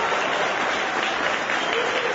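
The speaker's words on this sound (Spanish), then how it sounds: "Manuel Marfán se retiró entre aplausos y vítores del Banco Central." A crowd at a farewell event at the Banco Central applauds steadily, a dense and continuous wash of clapping that holds at the same volume from start to finish.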